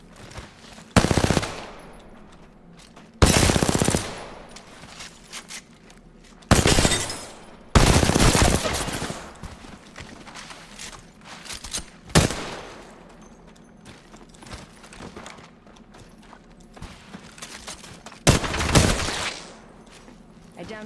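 Automatic gunfire in a shooter video game, several sharp, loud bursts spaced a few seconds apart, with quieter shots and a voice in between.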